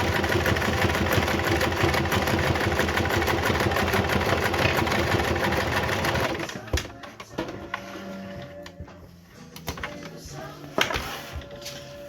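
Domestic sewing machine stitching through fabric, a steady fast mechanical whir running loud and continuous for about six seconds, then stopping to leave quieter handling noises and a few soft clicks.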